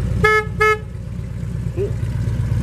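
Two short, bright honks from a 2013 Harley-Davidson Street Glide motorcycle horn sound close together, followed by a low running engine.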